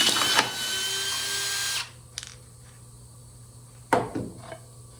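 A power drill backs screws out of a wooden template on a thick island tabletop, with a close, loud whine for about two seconds. It then goes quiet, followed by a single sharp knock of wood and tool handling.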